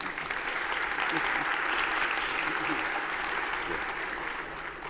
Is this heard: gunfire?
no